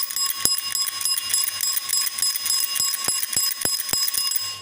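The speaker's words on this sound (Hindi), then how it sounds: "देखिए बेल है, ये जो है घंटी की बेल है" A bell is rung by hand for a school science lesson on sound, giving a steady, bright metallic ringing with a few sharp clicks scattered through it. There is no talking.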